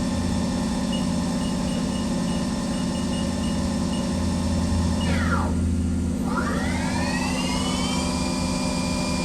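Spindle of a 2011 HAAS TL-1 CNC toolroom lathe running at 1,500 RPM: a steady close mechanical hum and whine with a dipping and rising tonal sweep midway as the speed changes.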